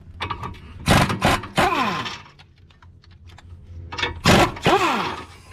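A pneumatic impact gun on the 18mm caliper bracket bolts of a 2006 Chrysler Crossfire's front brakes, firing in three loud, close rattling bursts, each winding down as the trigger releases, with quiet workshop pauses between.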